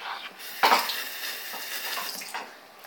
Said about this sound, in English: now I'm just going to wash my hands